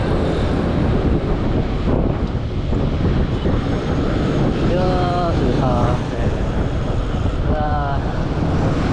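Strong wind roars loudly and steadily throughout, buffeting the microphone while riding along in a moving vehicle, with a broadband rushing noise and a few faint tonal chirps mixed in.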